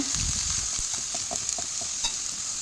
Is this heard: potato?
yes